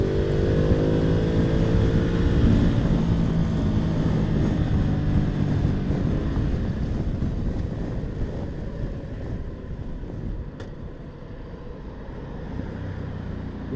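A 2020 Ducati Multistrada 1260S rides along a highway, its engine droning steadily beneath heavy wind rush, pulling strongly at first and then easing back as the bike slows.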